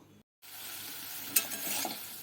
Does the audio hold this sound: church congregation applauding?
no